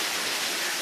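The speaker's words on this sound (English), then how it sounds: "look at that wind and thunderstorm going on out there" Rain and wind during a July thunderstorm outside, a steady dense hiss of falling rain and gusting air, loud and unbroken over a brief moment with no voices.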